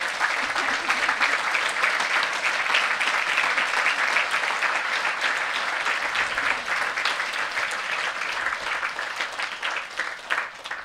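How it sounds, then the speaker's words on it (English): An audience applauds a work study team, including teaching assistants, at a 2012 New York teaching retreat, with sustained dense clapping that holds strong before thinning slightly near the end, fairly close. "would you all please stand up briefly for a round of applause?"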